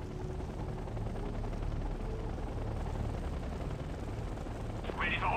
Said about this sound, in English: Aircraft ready for launch. We're gonna have our Apaches and Comanches go on a SAM clearing mission here.